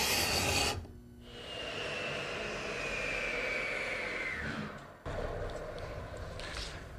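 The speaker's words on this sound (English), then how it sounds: "It's a gooseneck scraper. It's perfect to fit into our cove and scrape down the wood to a nice smooth surface." Gooseneck scraper drawn along wood in a cove to smooth it, a steady close rasping scrape lasting several seconds with a brief break partway through and no talking.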